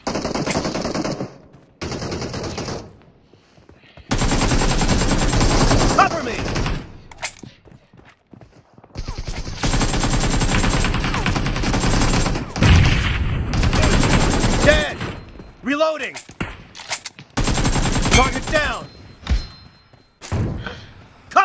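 Gunfire in a multiplayer team deathmatch shooter game, dense bursts of automatic fire and thuds broken by short pauses, loud and close, with brief announcer voices.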